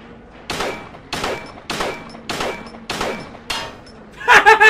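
Gunshots in the video game Silent Hill 2 ring out as six evenly spaced, loud single blasts, each decaying briefly, followed by a sharper clattering burst at the end.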